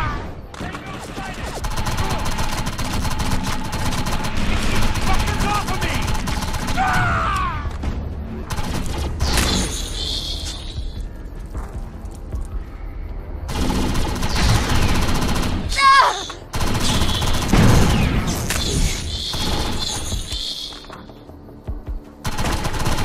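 Bursts of covering machine-gun fire and rifle shots in the video game Defiance, loud and close, rattling in long volleys with short pauses while voices shout in between.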